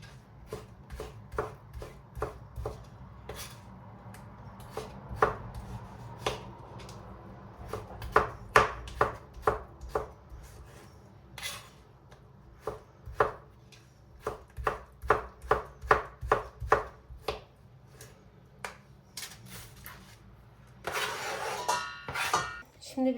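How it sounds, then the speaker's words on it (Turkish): Peppers being chopped on a cutting board for a tomato-and-pepper pickle, a long run of crisp knife taps in uneven bursts, close and clear, with a brief rustle near the end and faint background voice. "biberleri doğruyorum."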